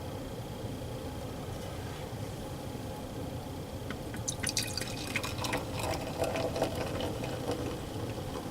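Four Winds Pomona, a wine-barrel-aged stone fruit sour, pours from a freshly uncaged bottle: a low, steady trickle at first, then a bright crackling fizz of foam rising in the glass during the second half.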